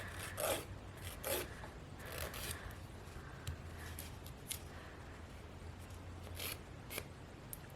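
A nail file rasps back and forth at close range as nail corners are rounded off, a quiet, steady series of short scratchy strokes with no talking.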